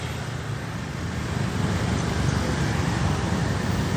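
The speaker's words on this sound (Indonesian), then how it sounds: "Oh situ mobil, ampun" Steady roadway noise, a car on a street going by close and fairly loud, swelling slightly as it passes, with no talk.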